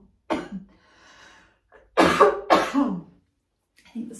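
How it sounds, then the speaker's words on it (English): A person coughs and clears their throat indoors, apparently irritated by smoke: a few short, close, loud bursts separated by quiet breathing. "I think the smoke is making me cough."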